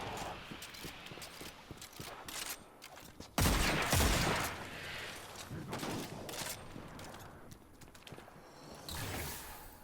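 A lever-action scout rifle firing in the game Destiny: a loud, sharp shot with a heavy boom stands out among busier clattering and scattered impacts, followed by softer shooting and mechanical action sounds.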